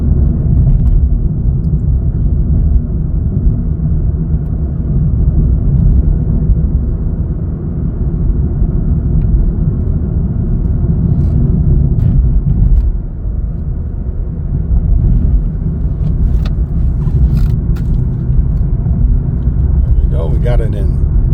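A Chevrolet Cruze LT in fourth gear on a local street: a steady, loud low engine and road rumble fills the cabin without a break, with a few faint higher ticks near the end.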